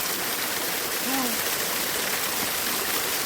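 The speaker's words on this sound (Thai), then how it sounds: "นี่ยังมีน้ำตกให้ชมครับ" A roadside waterfall in a village in Nong Ya Plong district, Thailand, rushes continuously in a steady, full hiss, with a brief faint voice sound briefly rising over it.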